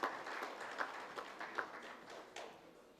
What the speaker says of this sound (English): Let's have a big round of applause for Mr. Diego Graffi.